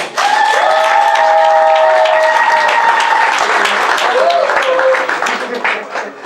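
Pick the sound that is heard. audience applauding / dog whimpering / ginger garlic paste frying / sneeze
audience applauding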